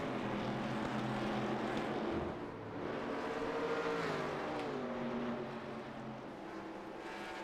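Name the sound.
vintage race cars braking at Watkins Glen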